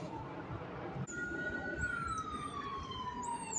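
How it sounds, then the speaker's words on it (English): A distant emergency siren, a long wailing tone that slowly falls in pitch over steady road and traffic noise, with no talking. "Do you hear the siren, okay?"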